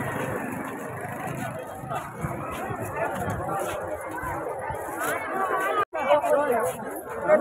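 A dense crowd of devotees chatters at a busy temple, with many overlapping voices forming a steady hubbub alongside faint traffic and engine noise, broken by a brief drop near the end.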